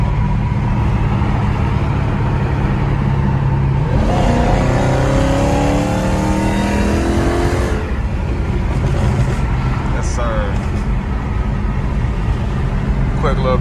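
Dodge Challenger Hellcat with stock exhaust and 5-inch tips accelerating hard in 5pm traffic, a loud continuous engine roar rising through gear pulls with occasional pops, heard from inside the car with voices talking over it.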